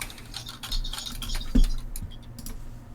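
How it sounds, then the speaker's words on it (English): Soft keyboard typing, a quiet patter of scattered key taps with one slightly louder clack, faint and slightly distant as if picked up through another person's headset. "I can hear myself typing through somebody else's headset"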